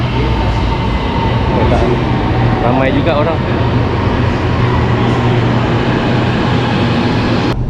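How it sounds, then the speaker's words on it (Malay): A train arriving at a busy Ampang line station in Kuala Lumpur, with a loud constant rumble and brief screeching wheel tones, while people nearby talk over the noise. "Okey, tren dah sampai."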